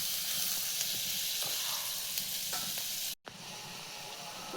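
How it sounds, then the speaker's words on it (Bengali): Ginger paste, turmeric and chilli fry in hot oil with a loud, continuous close sizzle and occasional stirring scrapes, cut by a brief dropout near the end. "এখন আমি আদা বাটা দিয়ে দিচ্ছি। হলদির গুঁড়া, মরিচ সব দিয়ে দিচ্ছি।"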